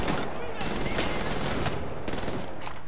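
Heavy machine gun fire in the shooter Wolfenstein: The New Order, a dense continuous battle roar with sharp bursts of shots standing out, loud and close throughout.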